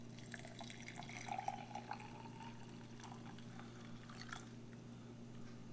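Hot water poured from a container into a Chinese PLA military ration pouch, a faint, steady liquid trickle with light drips over a constant low hum.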